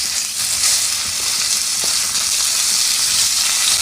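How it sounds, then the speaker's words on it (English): Sirloin steaks hit a hot pan indoors and sizzle loudly and steadily, a dense continuous frying hiss with no talking. "we're gonna go ahead and throw on our sirloin steaks"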